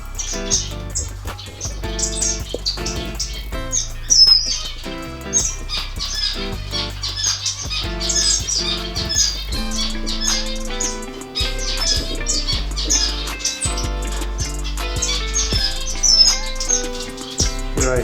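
Cuban grassquits kept in cages in an indoor bird room give a dense, continuous chorus of high chirps and tweets, with other finches calling among them and occasional squawks and wing flutters.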